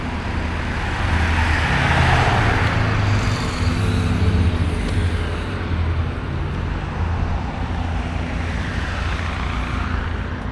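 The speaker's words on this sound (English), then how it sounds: "That vehicle there, another one coming." Steady road traffic in a village, with cars, trucks and buses rolling past close by in a continuous loud rumble that swells and eases as each vehicle goes by, and no talk.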